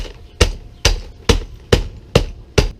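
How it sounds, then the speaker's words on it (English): A regular 16-ounce hammer, struck with its side, crushes clamshells inside a bag into chicken grit: six sharp, evenly spaced thuds, close and loud, with no talking. "I'm just using a regular 16-ounce hammer"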